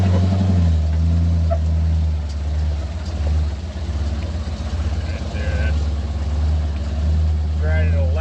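An off-road recovery truck engine chugs at a low, steady idle around 1,200 RPM, a loud, deep, rhythmic rumble that runs throughout while someone talks over it.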